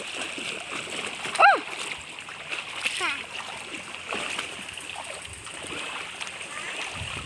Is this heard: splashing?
yes